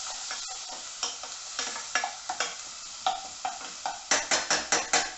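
Garlic and onion stir-fried in a little oil in a pan, with steady sizzling broken by repeated scraping stirs that come faster and louder toward the end, close and with no talking.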